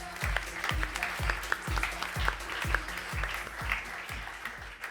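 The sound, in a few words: audience applause for speaker Cédric Thévenot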